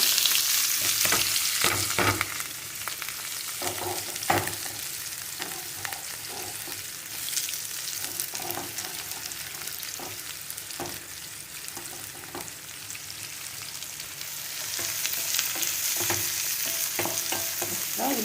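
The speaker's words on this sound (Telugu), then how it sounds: "నూనె వేడైంది ఇప్పుడు మనం ఈ తరిగి పెట్టుకున్న ఉల్లిపాయలు వేసేద్దాము" Chopped onions frying in hot tempering oil, loud constant sizzling with frequent scraping and clinking of a stirring utensil, close and sustained throughout.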